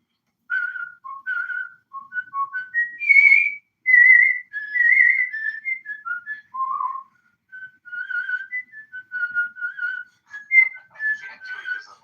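Someone whistles through their teeth in a lively, melodic run of bright pitched notes lasting several seconds with short pauses, loud and close, with no talking.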